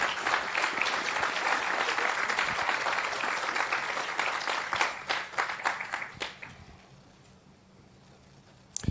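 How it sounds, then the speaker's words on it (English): A crowd applauds loudly and steadily at the 31st annual Noche de Las Memorias gathering, the dense clapping holding for about six seconds before thinning into scattered claps and fading to near silence. "Give another round of applause."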